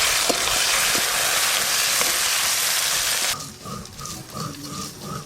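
Chopped onion and green chilies fry in oil for a fish curry, a dense, loud sizzling hiss for about three seconds that then drops to a quieter, uneven bubbling.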